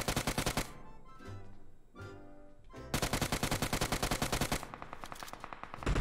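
Rapid automatic gunfire in the PUBG Mobile video game, loud close bursts of rattling shots, a pause with quieter sounds, then a long sustained burst of fire.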